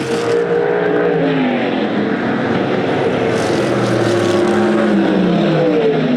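USAC Silver Crown race cars lapping the DuQuoin, Illinois dirt mile during the Ted Horn 100, engines roaring loudly and continuously as several cars run nose to tail past the microphone.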